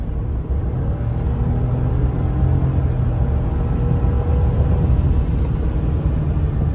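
A Ford F-150 pickup with the 2.7 EcoBoost engine pulls hard at about 70% throttle on a night drive, giving a loud, steady engine and road rumble that holds for several seconds with no talking.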